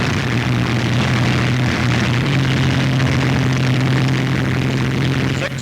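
World War II bomber aircraft engines starting before takeoff in October 1943, a loud, close, constant droning roar with a steady low hum, no voices.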